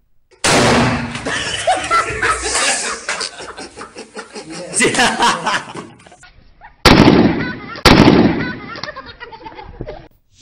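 Children fire toy guns in a series of loud popping bursts, some long and rattling and others short and sharp, with laughter and chatter mixed in between the shots.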